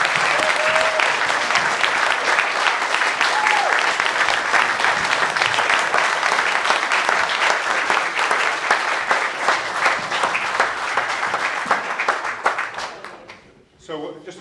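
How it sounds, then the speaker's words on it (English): Rally audience in Blackpool giving a sustained round of applause, thick and even clapping with crowd noise that holds for many seconds, then thins out and fades near the end. "Can we just have another round of applause for our amazing woman?"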